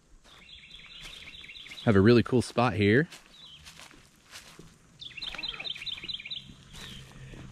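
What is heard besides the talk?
birds chirping in a forest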